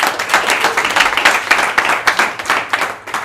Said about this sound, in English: Applause for Jimmy.